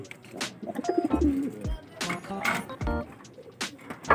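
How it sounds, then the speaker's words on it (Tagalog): Breeding pigeons in a loft coo in several soft, throaty bursts close by, with wing flutters and rustling between calls. "Ayan mga kalapatids."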